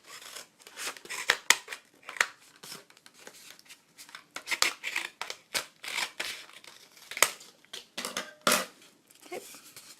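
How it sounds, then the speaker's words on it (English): Scissors snip straight across several stacked layers of a paper plate for a turkey craft, giving a string of crisp, close cutting crunches in irregular bursts, with no talking. "take your scissors. We're going to go straight across through all layers of the paper plate"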